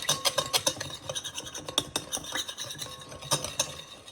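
Sliced plantains being mixed with oil and turmeric in a salad bowl, producing close, continuous scraping and rubbing with quick irregular clinks of a utensil against the bowl.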